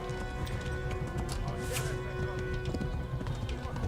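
Horse hooves in the medieval video game Kingdom Come: Deliverance, a steady close run of clip-clop beats over a busy game backdrop, with a brief whinny-like note partway through.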